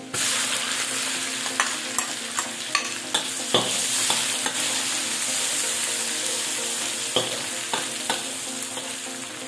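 Garlic and onion sizzle steadily in a hot pan, loud and close. A utensil scrapes and taps against the pan in irregular stirring clicks over the constant frying hiss, with no one talking.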